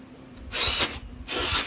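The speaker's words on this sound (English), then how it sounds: "These will be the bolt holes, the mounting holes that I'm drilling there." Two bursts of a power drill boring bolt holes in metal for a Santa Maria grill handle, each about half a second, separated by a brief pause, close and fairly loud.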